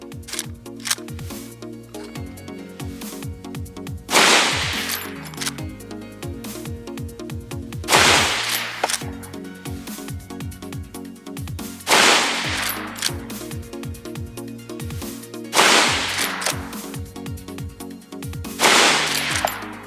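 Five loud rifle shots from a Henry All Weather 30-30 lever-action firing Federal 170 grain rounds at an outdoor range, each blast spaced about four seconds apart with lever-action clatter and metallic cycling between them.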